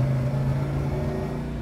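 A 1969 Chevrolet El Camino engine runs steadily through the gears, a loud, continuous mid-pitched drone with a strong low hum and no speech over it.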